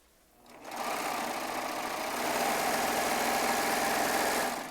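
A Baby Lock serger runs steadily at speed while stitching rows of quilt blocks together, a close, continuous high whir that starts after a brief pause and holds without a break.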